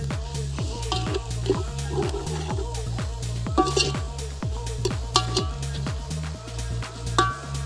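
Goat tripe fries with onions in a pot over a fire, a dense sizzle broken by repeated sharp scraping and clanking of a ladle against the metal in a steady rhythm, close up.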